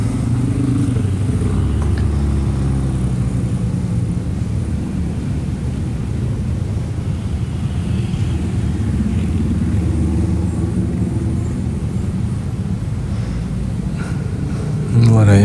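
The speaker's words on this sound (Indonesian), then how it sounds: "walaupun memang kadang ya macet kayak gini" Congested road traffic with cars and motorcycles produces a continuous loud rumble of idling and revving engines, with a louder surge at the very end.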